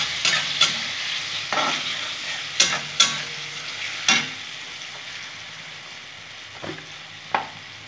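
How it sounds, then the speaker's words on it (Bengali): Tamarind achar being stirred in a pan, with a soft continuous sizzle and several sharp scraping knocks of the spoon spaced irregularly, close and moderately loud with no talking. "ভালো করে আমি একটু নেড়ে চেড়ে নেবো তেঁতুলটা দিয়ে"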